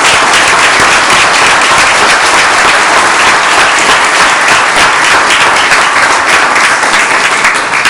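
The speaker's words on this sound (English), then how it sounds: "let's give Josh and Ms. Messer a round of applause" Sustained audience applause fills a school board meeting room, dense and steady for the whole stretch with no voices rising above it.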